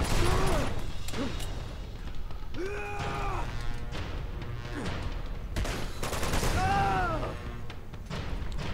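Gunfire in the video game Uncharted 2: Among Thieves: bursts of shots and crashing impacts throughout, with someone talking over the action.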